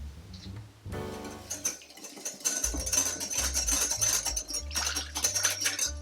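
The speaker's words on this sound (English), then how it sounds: "Mix these until well combined." Espresso chocolate chip cookie ingredients, including espresso powder, being stirred in a mixing bowl, with clinking utensil scrapes and knocks against the bowl over a steady backdrop.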